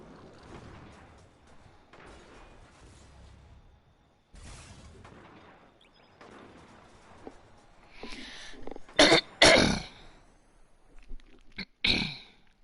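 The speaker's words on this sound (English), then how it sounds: "Sorry for the coughing." A person coughs and clears their throat: soft throaty rasps at first, then several loud, harsh, close bursts in quick succession near the end.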